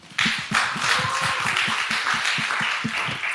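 A congregation at a Sunday church worship service claps in thanks to the youth volunteers, with close, distinct hand claps falling into a steady, regular rhythm throughout.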